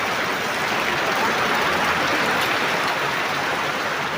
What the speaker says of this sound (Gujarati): પેલા વરસાદ કેવો આવે છે